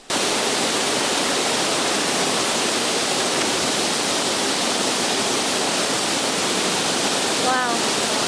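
A waterfall roars loud and unbroken, a dense wash of rushing water, with a brief high voice-like chirp near the end.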